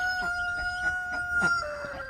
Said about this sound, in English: Thanks, Rooster.